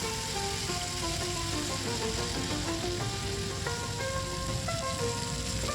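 Chicken thighs frying on a tawa give a steady, dense sizzle from start to finish, close and even, with a faint melodic tune running over it.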